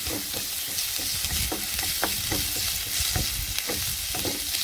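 Half an onion frying in a pan for restaurant-style chicken masala, a continuous loud sizzle broken by regular scraping taps of a spoon stirring through the pan.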